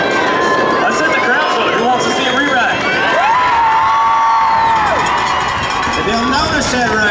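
A rodeo crowd at a championship bull riding event cheers and shouts in a loud, continuous roar, with whistles, whoops and an announcer's voice running over the noise throughout.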